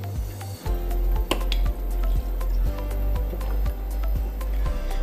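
Water runs from a Safe Dew Elixir H2O alkaline water purifier into a glass, a steady close stream with a regular series of sharp clicks and drips.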